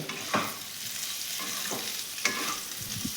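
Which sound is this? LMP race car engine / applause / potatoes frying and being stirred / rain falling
potatoes frying and being stirred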